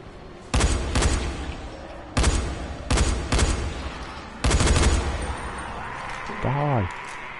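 Sniper rifle shots in the video game Dying Light ring out in several loud sharp bursts with echoing tails, spaced a second or two apart, followed by a brief descending tonal sweep near the end.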